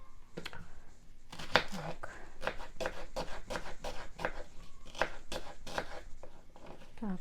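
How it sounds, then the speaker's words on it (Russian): A knife chops an onion into slices on a board, quick rhythmic cuts in bursts, close and fairly faint, with a voice talking over them. "как вы хотите, так и можете лук нарезать"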